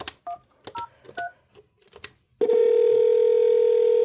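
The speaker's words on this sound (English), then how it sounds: "So now we'll dial back to my room." On a FreePBX office phone system, a quick run of DTMF keypad beeps comes in short irregular bursts, then gives way to a loud, steady continuous tone on the line.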